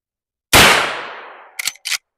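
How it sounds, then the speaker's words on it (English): A Marlin 1894 Classic lever-action rifle fires one loud, close shot at a cardboard silhouette, its boom decaying for about a second, followed by two quick sharp metallic clacks. "I'm going to shoot at this brown cardboard silhouette first, just lining up the shot."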